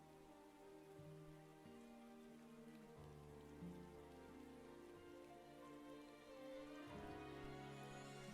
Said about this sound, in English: I like the little bit of a rain in the background.